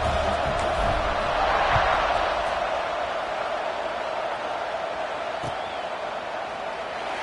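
A large football stadium crowd at an ECU game buzzes in a steady, dense murmur that holds throughout, distant and diffuse with no single voice standing out.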